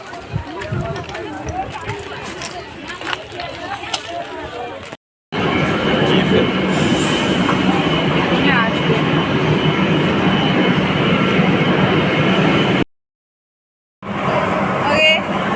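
A Kolkata metro train pulls away from Tollygunge station, its rolling rumble building and holding steady at close range, broken by two brief dropouts; a person talks over the start.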